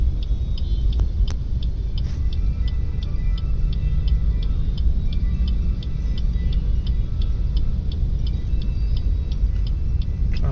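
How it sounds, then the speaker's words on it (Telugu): Road traffic near Cyber Tower in Hyderabad: a steady low rumble of engines fills the whole stretch, with a faint, evenly spaced ticking running above it and no voices. "మనం సైబర్ టవర్ దగ్గర ట్రాఫిక్లో ఉన్నాం"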